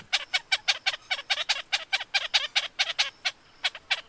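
A honeyguide calls loudly in a rapid, steady series of chattering notes, repeated many times without pause and heard alone.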